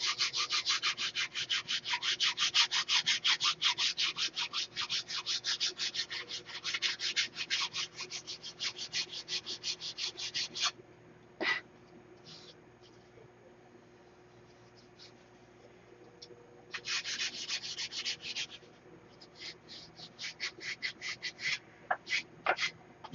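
Rapid back-and-forth sanding strokes on the wood of a model airplane elevator stabilizer come in close bursts, broken by pauses and a few sharp taps.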